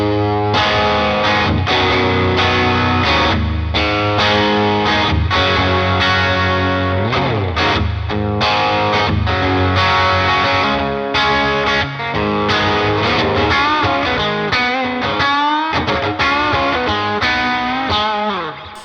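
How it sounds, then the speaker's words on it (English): Electric guitar through a Deluxe Reverb amp model on a NUX Solid Studio Mk II, playing a clean, chiming passage with reverb, chords and single notes ringing out loudly with no talking. "So that is the deluxe reverb sound."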